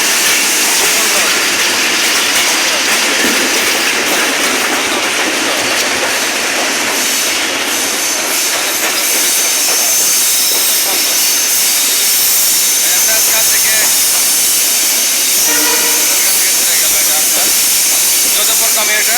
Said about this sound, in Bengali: কমলাপুরের উদ্দেশ্যে ছেড়ে গেল যদুপুর কমিউটার